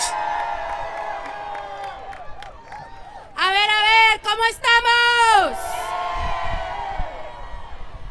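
A rally crowd at a Day Without Human Services protest near City Hall breaks into a loud burst of whooping and cheering lasting about two seconds, with people talking into a microphone before and after.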